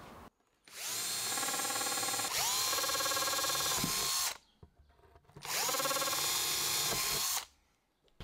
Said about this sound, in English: I'm going to need 6 holes drilled in this